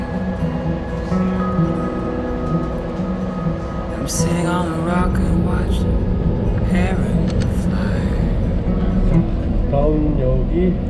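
Inside a passenger train running toward Santa Barbara, a continuous low rolling rumble and rattle carry on throughout while a voice talks over it.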